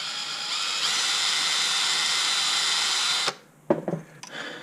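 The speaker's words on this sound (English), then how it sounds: "I'm going to go ahead and drill this passageway a tiny bit bigger too" A drill enlarges a small passageway in a fuel system part during a Walbro 450lph fuel pump upgrade on an EVO X. It whines steadily and loudly for about three seconds, then stops sharply, followed by a few brief clatters.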